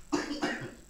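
A radio talk show guest coughs twice in quick succession, close to the microphone and fairly soft, with no talk over it.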